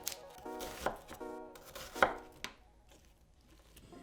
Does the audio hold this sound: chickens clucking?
no